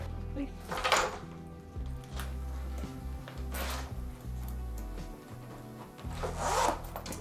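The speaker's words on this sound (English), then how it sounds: "I'm gonna just zip this up." A zipper on a La Mansio Air bag is pulled closed in a few short, close rasping strokes spread apart, over a low background rumble, with no talking.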